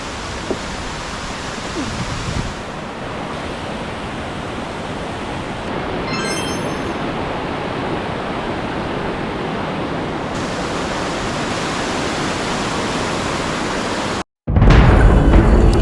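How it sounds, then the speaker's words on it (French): River water rushing steadily through a forest near the Carbet Falls in Guadeloupe, a loud, continuous broadband flow that fills the whole clip, with a brief gap and a harder surge of water noise at the end. "C'est relaxant avec le bruit de la rivière, de l'eau."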